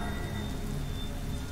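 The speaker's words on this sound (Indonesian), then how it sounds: "Oh ya, hujan." Steady rain pours down onto hard surfaces outdoors near a shopping trip, a constant, fairly loud wash of patter with no pauses and no voices.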